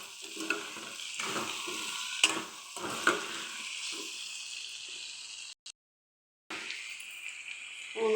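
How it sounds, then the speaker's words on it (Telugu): Salt being stirred into food frying in a pan: continuous sizzling with repeated scraping spoon strokes, a brief drop to silence, then sizzling resumes close up. "స్పూన్ ఉప్పు వేసిన తర్వాత ఒకసారి కలుపుకోండి"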